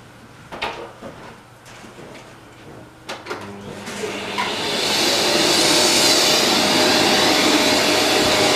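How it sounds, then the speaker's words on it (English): Bumps and clatter give way to a vacuum cleaner starting up during vacuum maintenance. Its steady, loud, broadband whoosh holds for the last few seconds, with no talk. "I take the other vacuum and vacuum those off."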